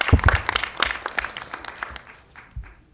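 Applause from the audience at a town hall meeting, a burst of scattered hand claps that thins out and fades over a few seconds.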